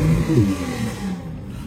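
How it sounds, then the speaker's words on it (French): Classic racing car engines at the Tour Auto parc fermé in Carcassonne give a short burst of loud, close revving with a rising and falling growl, no talk over it. "Oh, les moteurs."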